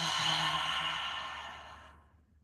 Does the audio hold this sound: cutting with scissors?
no